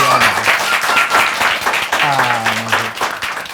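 Studio audience clapping at the close of a live talk-show conversation on money personalities, a dense, steady applause wash throughout with voices speaking over it.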